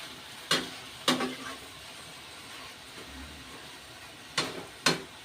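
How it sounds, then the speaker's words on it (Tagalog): Chop suey vegetables are stirred in a frying pan, with four distinct scraping strokes in two pairs, separated by quiet gaps, over a faint sizzle. "Haluin din natin."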